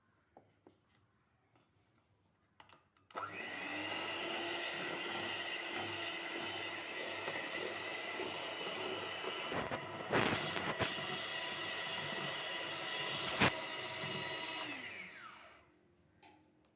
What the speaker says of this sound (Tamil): இந்த அளவுக்கு நல்லா ஃபோமாக பீட் பண்ணி எடுத்துக்கோங்க